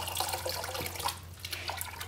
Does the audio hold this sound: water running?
yes